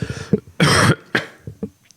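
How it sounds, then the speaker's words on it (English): A sharp, harsh cough bursts out close to the mic, surrounded by a few softer throat sounds and short breathy noises. "I coughed right into the mic"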